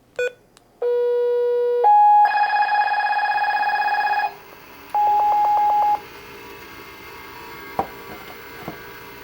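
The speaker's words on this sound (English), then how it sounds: "let's go ahead and give it a command from the handheld walkie-talkie to the speakerphone" A handheld walkie-talkie sends a Ritron GateGuard gate callbox a series of sustained electronic command tones and beeps, then a short burst of rapid pulsed tones and a few faint clicks.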